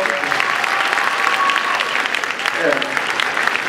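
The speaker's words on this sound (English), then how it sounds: "Can we please have a big round of applause for Mr. Morrow?" A crowd gives loud, sustained applause, dense steady clapping close by that continues for several seconds, with faint voices mixed in.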